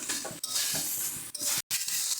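A spoon scrapes and mixes a curry of taro stems and chopped tomato in a pan, heard up close as rough rhythmic stirring over a soft sizzle, with one abrupt silent break.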